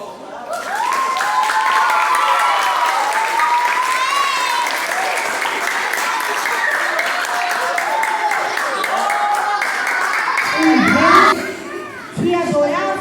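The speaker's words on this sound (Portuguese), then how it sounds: "Vamos bater palmas para ela?" A children's audience at a school storytelling event claps loudly and steadily, with excited shouts and chatter mixed in, before the clapping stops and an adult voice takes over near the end.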